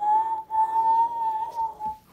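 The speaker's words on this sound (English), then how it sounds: "that's a fine whistle, Henry." A single steady whistle from the steam engine Henry in a model railway scene blows for about two seconds, clear and fairly close, with one short break near the start and no voices over it.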